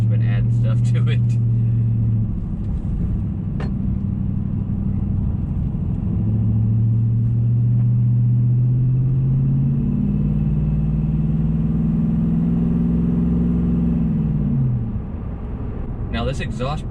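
A Nissan Titan truck with a Flowmaster Super 10 exhaust idles and revs, a deep exhaust rumble swelling and falling in long pulls, loud and close.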